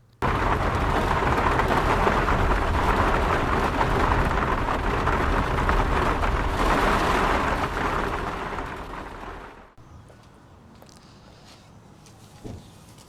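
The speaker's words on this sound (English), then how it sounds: "after that torrential rain" Torrential rain pounds a car on a Scottish motorway, a loud dense hiss that holds steady, then fades and cuts to near quiet, leaving a faint background with a brief knock near the end.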